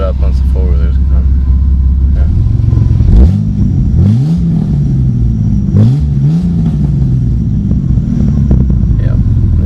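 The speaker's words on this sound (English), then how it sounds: "I'll rev it up once the four-wheeler's gone." Jeep Grand Cherokee WJ engine with the exhaust cut off right behind the catalytic converter and no muffler, idling with a loud raw rumble and then revving up in two rising bursts, recorded close by.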